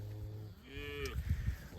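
A single cow lowing in a barn on a snowy pasture farm, one drawn-out moo rising then falling, fairly close and clear, followed by some low knocking and shuffling.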